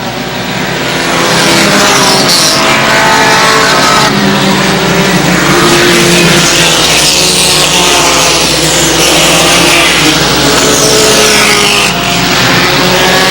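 Race cars roar around a short track during a racing event, engines loud and continuous with overlapping passes rising and falling, no talk.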